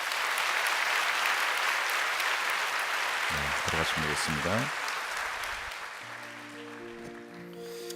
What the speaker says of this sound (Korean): 인사하실 때 박수로 축복해 주시기 바랍니다.